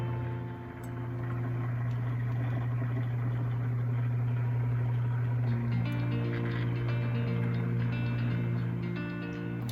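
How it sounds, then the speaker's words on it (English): A cup turner motor hums steadily and close as a glitter tumbler spins on it, a continuous even drone with a faint whine. "Just letting it spin for a little bit to kind of even my Brite Tone out"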